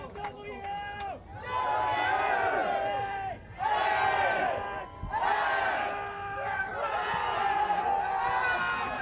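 A crowd shouts and cheers in loud, sustained bursts at the 1999 Canadian Ultimate Championships open final, with brief dips between swells and commentary heard over it.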